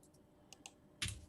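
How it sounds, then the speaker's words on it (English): Very loud computer keyboard being typed on, a few sharp, sparse clicks early on, then a heavier burst of clacking keystrokes near the end, faint and close with no talk. "Loudest keyboard ever."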